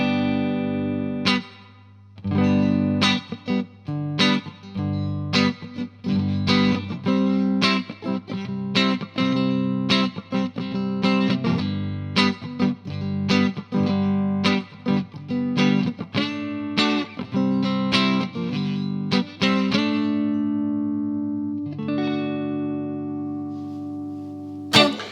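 Fender Custom Shop Stratocaster electric guitar, an early-to-mid-1990s model with a bird's eye flamed maple neck, played alone with distorted, effect-laden chords and riffs, strongly rhythmic and close, ending on a sustained ringing chord.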